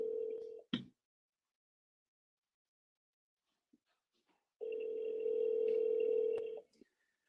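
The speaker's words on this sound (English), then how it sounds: "Let me know if you guys can hear the phone ring." Telephone rings in two bursts, a short one at the start and a longer tone of about two seconds near the end, separated by silence, fairly clear and alone.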